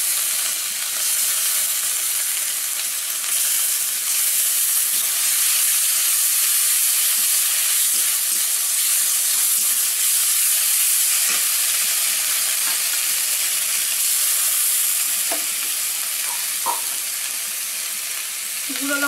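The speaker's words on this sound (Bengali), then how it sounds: "আদা, পেঁয়াজ বাটা, হলুদ দিয়ে দিলাম" Ginger, onion paste and turmeric frying in a pan for fish curry, a steady bright sizzle and hiss running throughout, close and loud, with a few faint clinks and stirs.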